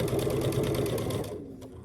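A sewing machine runs in a fast, steady stitching rhythm while stitching down the binding on a Grinch quilt, then stops abruptly near the end, close and fairly loud with no talking.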